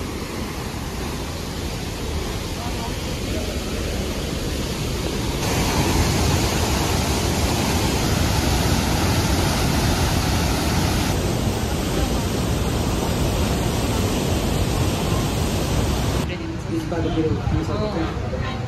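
Forceful rushing water close to a waterfall near Kusma, Nepal, swollen by monsoon rain, a loud, steady broadband roar that stays unbroken and fills the scene, with the sound shifting slightly partway through.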